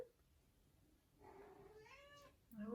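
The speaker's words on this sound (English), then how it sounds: "Oh, cat wants to paint as well." A house cat meows softly indoors, two drawn-out mews and a short third call, faint and close in an otherwise quiet room near a paint pouring table.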